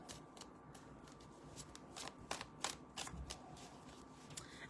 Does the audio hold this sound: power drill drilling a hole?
no